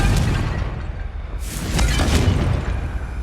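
A Confringo spell blast goes off in Hogwarts Legacy inside a maze, a deep rumbling boom followed by a bright crackling burst about midway, with a low sustained rumble underneath and no speech.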